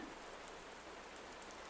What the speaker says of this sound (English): And in my stillness, I heard the rain begin.